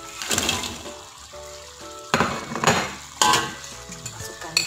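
Chicken is stirred into boiling sweet and sour sauce in a pan, with repeated scraping and clinking of a utensil against metal over a steady bubbling sizzle.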